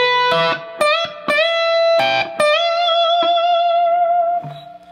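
Slowly played on distorted electric guitar, lick three from the solo: a string of distinct picked notes and bends, ending in a long sustained tone that fades.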